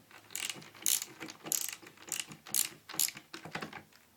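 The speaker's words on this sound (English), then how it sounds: "make sure you hold on to this nut over here so it doesn't start spinning as you start screwing it on" Tightening a nut while assembling a skateboard gives a rapid series of close ratcheting clicks in short bursts, about seven sharp pulses in quick rhythm.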